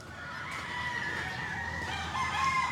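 Native chickens in a village setting, with a rooster crowing in a drawn-out call over soft clucking from the flock, fairly close and clear.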